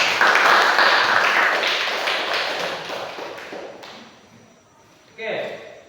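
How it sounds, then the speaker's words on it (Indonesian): A school audience of students breaks into dense, close applause that fades gradually over several seconds, followed by a brief burst of voices near the end. "Oke, kasih tepuk tangan"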